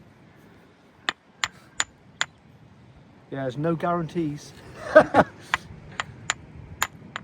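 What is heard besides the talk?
small hammer striking rock while fossil hunting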